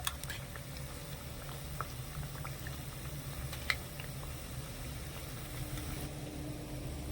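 Bread pieces fry in oil over medium-high heat for a sweet, making a faint, even bubbling and crackle with a few tiny pops and no talking.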